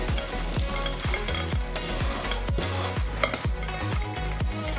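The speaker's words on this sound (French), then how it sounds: "On va mélanger le tout." Spoon stirring a gluten-free, lactose-free sweet dessert mixture in a bowl, a steady series of repeated scraping and clinking strokes, close and fairly loud, with no talking.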